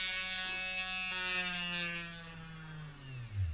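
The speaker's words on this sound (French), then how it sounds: "je continue le perçage de mes petites pièces" A small high-pitched rotary drill whines steadily while boring holes in tiny handmade Valentine's heart jewelry pieces, its tone sliding lower toward the end as it bites into the material, faint and close.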